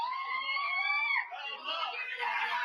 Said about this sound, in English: I'm leaving the audio on so you can hear her screams.